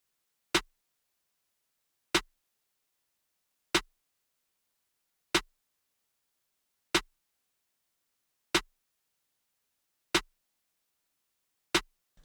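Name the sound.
snare drum sample in a trap beat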